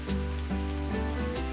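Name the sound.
rain falling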